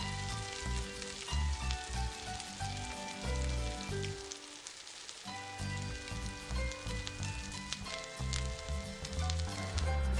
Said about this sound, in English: Continue to cook the pork until it is no longer pink.